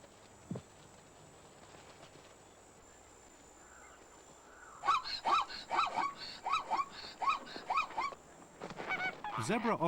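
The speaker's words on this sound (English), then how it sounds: "The sudden takeoff of Egyptian geese is enough to startle the herd." Egyptian geese honk in a series of loud, close calls as they take off near a zebra herd at a drinking pool, starting after a quiet stretch and building into a dense run of calls near the end.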